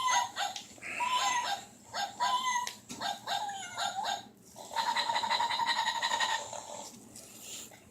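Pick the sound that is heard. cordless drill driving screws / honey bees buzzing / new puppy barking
new puppy barking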